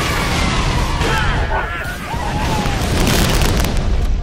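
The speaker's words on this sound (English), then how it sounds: "Next part, throw a grenade." Grenade exploding in the Halo 3 video game, a loud booming blast and roaring rumble that fills the mix, with voices heard over the game sound.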